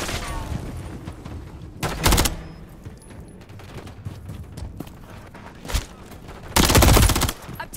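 Call of Duty Hardpoint match gunfire: loud automatic bursts crack out near the two-second mark and again late in the clip, the longest stretch of rapid shots near the end, with quieter combat noise in between.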